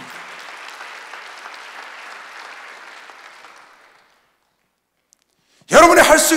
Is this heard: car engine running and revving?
no